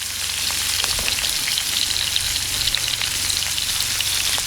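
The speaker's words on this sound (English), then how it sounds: "Throw these guys on that skillet, and they're gonna cook real fast." Seasoned pieces of deer heart sizzle loudly in a hot skillet, a dense, continuous crackling hiss with scattered pops and no talking.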